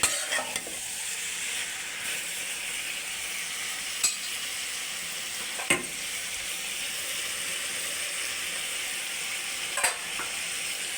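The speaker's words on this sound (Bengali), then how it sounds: "একটু নেড়ে চেড়ে দিতেছি।" Quiet sizzling in a frying pan as dried bamboo-leaf fish curry with winter vegetables is stirred, a steady hiss broken by a few soft spoon scrapes.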